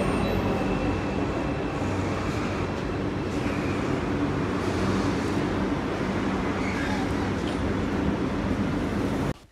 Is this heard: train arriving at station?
yes